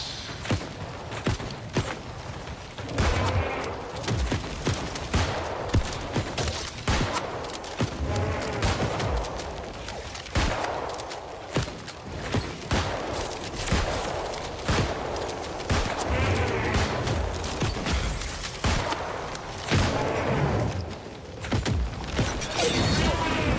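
Musket volleys crackle through a battle in the online game New World, sharp repeated shots layered with mechanical clatter and scuffling footsteps, steady and fairly loud throughout with only scattered voice.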